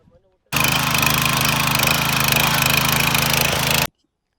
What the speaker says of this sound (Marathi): हा 7 HP च पॉवर विडर आहे ही.